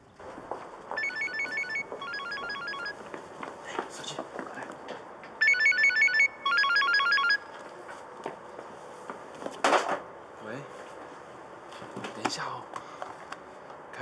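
A telephone rings indoors in two bright electronic bursts of repeated trilling tones, close and clear, while people talk quietly and whisper around it.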